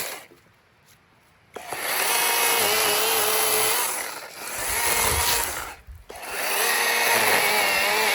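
Electric saw trimming around the edges of a log, a loud sustained buzzing cut that starts after a quiet second and a half, dips briefly twice as the blade lifts, then bites back in.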